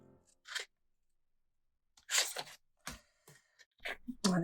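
Paper is cut with a few short bursts while a planner spread is made, crisp snips and rustling separated by quiet pauses, close and soft.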